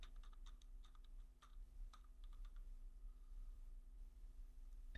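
Someone types a YouTube channel name on a computer keyboard while working in Canva: quick, light clicking keystrokes come in scattered bursts for a couple of seconds, then trail off into near silence over a low hum.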